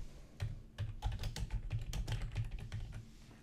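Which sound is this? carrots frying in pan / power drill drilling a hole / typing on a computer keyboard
typing on a computer keyboard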